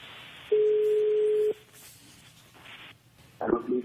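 A telephone is being dialed, with a steady one-second tone followed by a quiet gap and then a burst of short electronic tones near the end.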